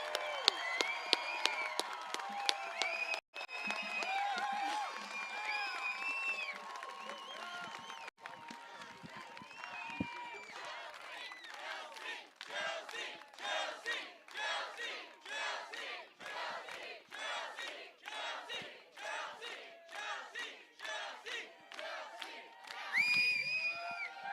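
A crowd at an evening political rally cheers and shouts as a parliamentary candidate is introduced, whoops and loud calls giving way to rhythmic clapping and chanting, with voices mixed in throughout.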